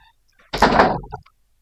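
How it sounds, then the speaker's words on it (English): A door shuts in a single solid thump with a short rattle as it settles, close and loud against an otherwise quiet room. "Close the door."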